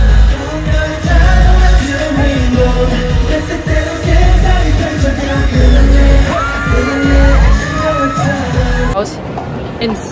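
A large crowd at a K-pop concert in Los Angeles on the Fate tour screams, yells and whoops loudly and continuously, with the roar briefly dropping away near the end.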